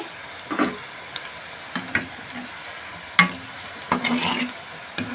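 Meal maker pakodi frying in oil while being stirred, with a soft background sizzle broken by several distinct scraping stirs and clacks of a spoon against the pan.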